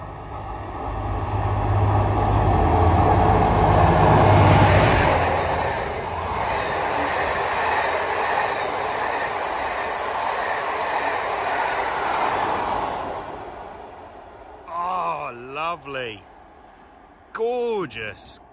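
A Class 57 locomotive hauls carriages past at close range through Belper, a loud sustained roar and rumble of wheels on track that fades, followed by brief bird chirps.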